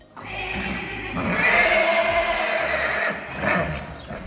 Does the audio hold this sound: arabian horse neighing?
yes